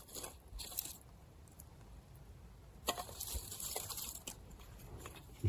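An ESEE 3 knife with 1095 steel carving wet hazel wood, giving quiet crunchy scraping cuts in several bursts, close by and fairly soft, with no talk.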